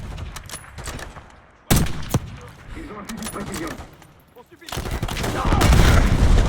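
Black Ops 6 campaign battle with rapid automatic gunfire, bursts crackling in uneven volleys at mid distance before a louder, sustained barrage builds near the end; voices call out in French amid the shooting.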